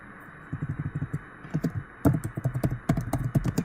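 Computer keyboard keys tapped in quick, uneven bursts while a group name is entered, close and fairly soft, with no talking.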